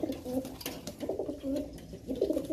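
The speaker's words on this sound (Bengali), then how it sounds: "তিনোটা কবুতরই সুন্দর নর দুইটা সবচেয়ে বেশি সুন্দর" Silver pigeons coo up close in soft, low, repeated burbling calls, fairly quiet and with no talking.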